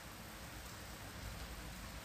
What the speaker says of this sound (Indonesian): masih hujan dan masih ada angin kencang ya